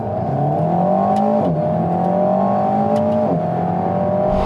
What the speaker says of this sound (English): The engine sounds pretty good from the inside, its throttle response is very good